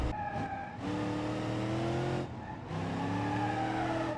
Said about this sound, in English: Oh, we're skidding, we're skidding.